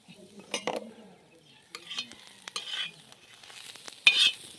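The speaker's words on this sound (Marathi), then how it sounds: "कांदा चांगला लाल जर आता तळून घेतला" Onion frying quietly in a pan with scattered scrapes and clicks of a spoon stirring, ending in a brighter burst of frying.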